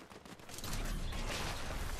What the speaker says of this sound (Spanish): Lelia, he fallado todos los tiros